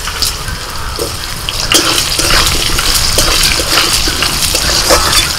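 Potatoes drop into hot oil in a kadai and fry with a loud, steady hiss and scattered crackles, close up and without any talking.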